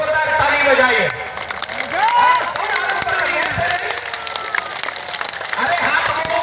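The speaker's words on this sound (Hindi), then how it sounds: "जोरदार ताली बजाइए।" Loud, sustained clapping and cheering from a big crowd at a Hindu religious gathering fills the whole stretch, swelling and fading slightly, with voices and a speaker's amplified talk over it.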